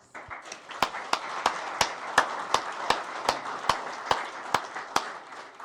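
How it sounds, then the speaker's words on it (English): Audience applause at the close of a South Pasadena candidate forum, a crowd clapping steadily over several seconds, punctuated by regular sharp louder claps standing out above the steady wash. "Let's applaud the candidates for their willingness to stand for office."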